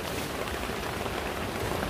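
Heavy rain drums steadily on a family camping tent during a storm with strong wind, a dense, continuous wash of close patter filling the whole stretch with no voices.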